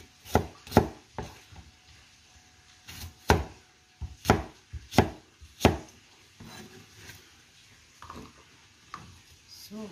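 A knife chops a white onion on a wooden board in a series of sharp, separate thuds, close and fairly loud, spaced unevenly with quieter scraping and handling between strokes.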